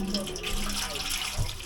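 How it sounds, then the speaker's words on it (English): Water runs into a pot holding Jamaican steamed fish with okra, a brief close pour splashing in a home kitchen with no voices. "And we're gonna add some water upon it."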